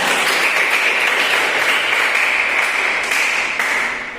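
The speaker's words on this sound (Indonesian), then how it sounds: "Alhamdulillah, tepuk tangan." A class applauding during a teaching session, steady and loud, with dense overlapping clapping that holds evenly and then tapers off at the end.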